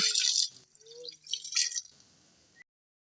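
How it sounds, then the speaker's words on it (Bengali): A knife and cutting board are rinsed under running tap water in a kitchen, with a close, steady splashing stream that pauses briefly and then stops. "ছুরিটা ধুয়ে নিচ্ছি, আপনারা দেখতে পাচ্ছেন, ছুরিটা ধুচ্ছি"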